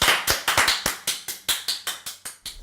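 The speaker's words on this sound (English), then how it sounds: "Let's give Jeff a round of applause." Clapping given as a round of applause, heard as about a dozen sharp, evenly spaced claps in a steady rhythm, close and alone with no voices.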